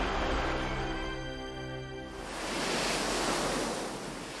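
Ocean surf on the coast of the Byeonsan peninsula in Buan, a steady broad wash of waves close by with no voices, with a low tonal hum fading out in the first half.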